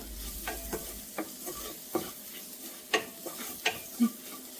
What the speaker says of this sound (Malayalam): ഇനി ഇതും കൂടെ നല്ലതുപോലെ ഒന്ന് ഇളക്കി ഒന്ന് കുക്കായിട്ട് വരണം. നല്ലതുപോലെ മിക്സ് ചെയ്ത് കൊടുക്കാം